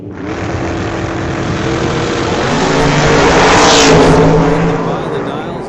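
Brown Camaro drag racing down the strip at an old-time drag meet, a loud engine roar that builds and swells to a peak before easing off, heard with a commentator talking over it.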